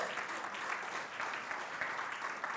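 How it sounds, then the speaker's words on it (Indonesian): An Indonesian church congregation claps at a Sunday afternoon service, a dense, lively wave of applause that stays even and full from start to finish. "Ini tepuk tangan yang harus paling meriah."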